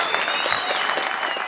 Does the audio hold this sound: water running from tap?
no